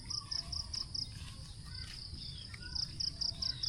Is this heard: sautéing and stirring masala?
no